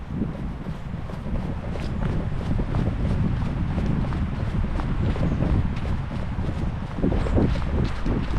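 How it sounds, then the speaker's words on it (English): Strong wind buffets an action camera's microphone (DJI Osmo Action 4 or GoPro Hero 12 Black) with constant low rumbling roar, punctuated by gusts and some faint thumping footsteps, no talking. "check out the wind reduction capabilities on both cameras, as it's super windy"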